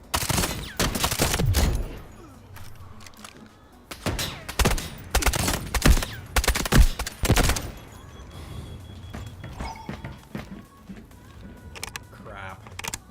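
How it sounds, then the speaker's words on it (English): Rapid bursts of gunfire in the shooter game Delta Force, loud clustered volleys in the first half that thin into scattered shots later, with a voice talking over parts of it. "Ooh, that was great shooting."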